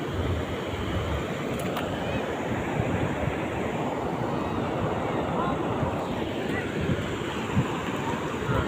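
Sea waves rolling in and breaking on the shore at the Digha estuary make a continuous loud wash, with wind buffeting the microphone throughout.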